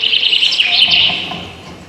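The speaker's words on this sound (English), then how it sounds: "There are live birds in here." Birds chirp and tweet in a bright, continuous twittering close by, loud and busy at first and then easing off slightly, with no talk over it.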